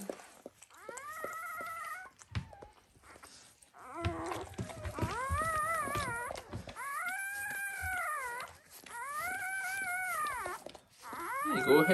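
High, wavering whimpers and thin cries from newborn sheepdog puppies, rising and falling in repeated drawn-out calls, close by with short pauses between.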